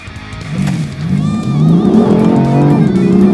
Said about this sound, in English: the BMW M4 goes like the clappers